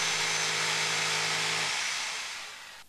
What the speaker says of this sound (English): Use the 7mm bit to drill the holes marked from the template.